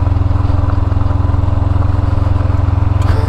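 A motorcycle engine compression braking gives a steady, close, low throbbing rumble that holds evenly throughout, with a faint click near the end.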